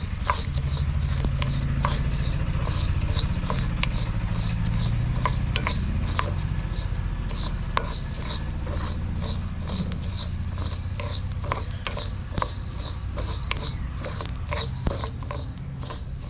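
A teaspoon of cumin seeds fries in oil in a pan for a cucumber huli saaru, with a steady close crackle and bright scraping and clinking of a spoon stirring against the metal pan.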